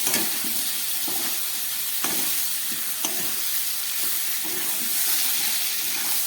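Boiled potatoes with prawns sauté in a pan, a loud, continuous close sizzle with regular soft scraping stirs of a spatula roughly once a second.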